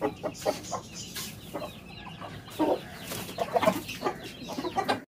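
Fancy chickens clucking outdoors while scratching in dirt, a busy flock giving repeated short clucks and calls at close range, steady and moderately loud.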